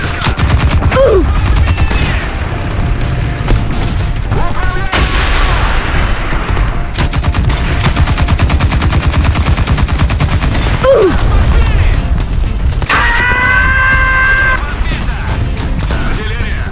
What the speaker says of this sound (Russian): Артиллерия, заградительный огонь.